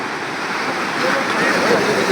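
Sea waves wash up onto the beach at Digha in the evening, reaching the feet of people at the shoreline, as a steady, close rushing roar that swells slightly toward the end, with wind noise present.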